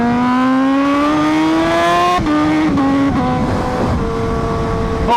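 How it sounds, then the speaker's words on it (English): A fast motorcycle ridden at sunset, its engine revving high and climbing in pitch, then dropping through quick gear shifts, loud and close throughout. "Holy, this bike is fast."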